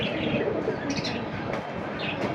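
Pet pigeons coo and chirp in a loft among a seller's collection, a few soft close calls over a low, steady background rumble.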